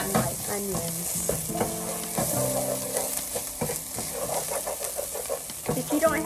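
Browned onions frying in a non-stick pan while being stirred, with steady sizzling, scraping and clinking close up, and some faint background sounds under it.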